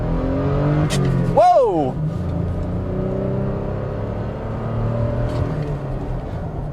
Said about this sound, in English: Merging onto the main road in the 2021 Tacoma with the manual transmission, first gear, foot to the floor.